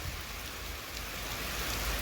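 Rain falls steadily outdoors as a dense, even hiss that stays fairly loud for the whole stretch, with no voices and no breaks.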